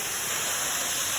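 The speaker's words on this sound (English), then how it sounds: "I bet you heard it already. We're jumping off the waterfall" A waterfall at a cliff jumping spot, heard as a steady, loud broadband rush of falling water with no breaks, filling the short stretch with no voices.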